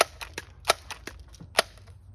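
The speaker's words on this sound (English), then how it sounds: "We're target shooting." Sharp pops ring out from target shooting practice, about nine irregular shots with two louder cracks among them. Each report is short and snappy and comes with no talk.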